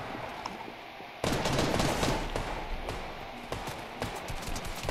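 Video game gunfire: after a quieter opening, a loud burst of rapid automatic shots starts and continues as dense rattling fire, with another flurry near the end.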